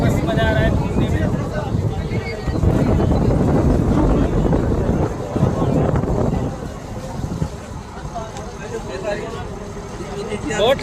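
Cold wind blows by the sea in Mumbai near the Taj Hotel, a steady broadband rush and buffeting on the microphone throughout, with voices talking underneath.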